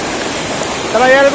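Strong rushing water pours down a natural rock slide in a stream, a steady close broadband roar filling the whole clip, with a brief tonal sound rising over it near the end.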